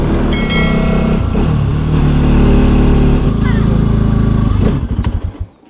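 Motorcycle engine on an off-road ride, loud and close, holding a steady drone with shifts in pitch before cutting out near the end, with some background noise and faint voices.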